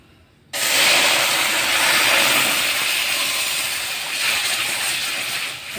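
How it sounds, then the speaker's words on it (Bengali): Milk hits semolina frying in a hot pan with a sudden loud sizzle that jumps in abruptly and keeps hissing steadily and close, easing slightly toward the end. "এবার আমি এর মধ্যে দুধ দিয়ে দেবো"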